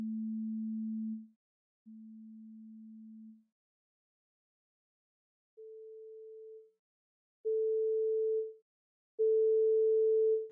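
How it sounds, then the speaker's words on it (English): Pure sine wave tones play in steady separate beeps: two lower notes at the fundamental, then after a pause three higher notes at the second harmonic, each clean and sustained about a second. "Now you only hear the fundamental, but we'll bring it down in volume and pull up the second harmonic"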